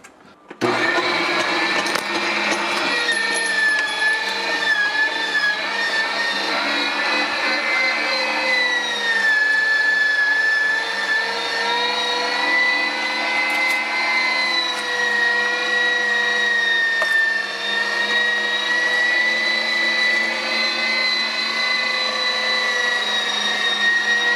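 An electric spice grinder whirs continuously while grinding paprika for Nashville hot seasoning, a loud, steady high-pitched motor drone that holds for over twenty seconds with slight pitch shifts and no talking.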